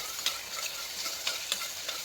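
Steady oil sizzle from a pan over high flame with a few sharper crackles and stirring scrapes, close and continuous, with no voices.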